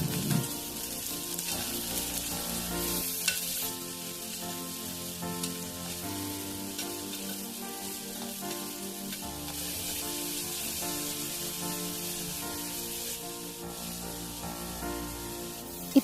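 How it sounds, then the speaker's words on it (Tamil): Coriander seeds, cumin, fennel and tomato sautéing together in a pan, a steady close sizzle and frying crackle running throughout with occasional stirring, for a clay-pot fish curry masala. "மல்லி, சீரகம், சோம்பு, தக்காளி இதெல்லாமே ஒன்றாவே சேர்த்துட்டு நல்லா வதக்கி எடுத்துக்கலாம்."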